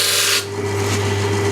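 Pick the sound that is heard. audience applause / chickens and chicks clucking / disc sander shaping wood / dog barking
disc sander shaping wood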